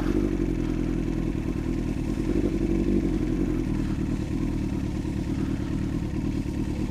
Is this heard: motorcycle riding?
yes